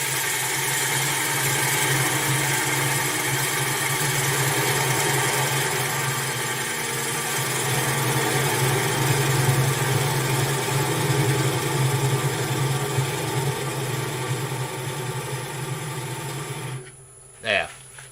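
A gouge cuts a large piece of wood with splits and cracks on a spinning wood lathe, a steady motor drone with a rasping cutting texture that holds for many seconds and then abruptly stops near the end.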